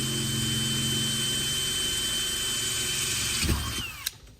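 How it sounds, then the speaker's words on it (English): A power drill whines steadily at high speed, close and loud, then slows and stops with a brief clunk near the end. "The next step is going to be drilling our hole"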